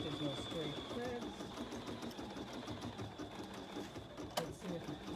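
A BERNINA embroidery machine stitches a garden flag with a steady, fast mechanical whir and rattle, close by and continuous, with voices talking over it.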